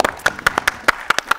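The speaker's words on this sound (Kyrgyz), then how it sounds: "Анда кол чаап коюңуздар." An audience claps in quick, uneven bursts of sharp slaps, close and lively, over a short stretch with no talking.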